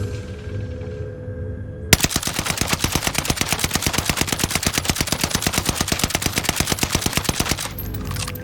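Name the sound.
NZ-41 gun firing in a video game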